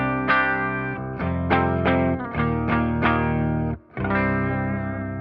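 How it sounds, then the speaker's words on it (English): Clean electric guitar through a Victory V50 amp, bright strummed chords ringing out with a short break near the end, close and full, played alone without talk. "here's the clean guitar sound"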